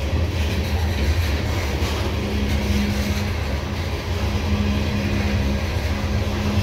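A loaded CSX coal train hauled by an EMD SD70 rebuild locomotive rumbles past close by, a loud continuous roar of wheels and cars with a steady low engine drone.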